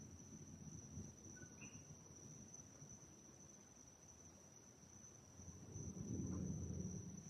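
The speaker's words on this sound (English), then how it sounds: "And you hear the cricket." Crickets chirp at night at a Zen temple, a faint, steady, unbroken trill over a soft low rumble that swells near the end.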